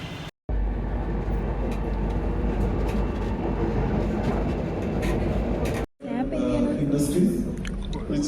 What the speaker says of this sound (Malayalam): സോ നമ്മളിപ്പോൾ മെട്രോയിലാണ്.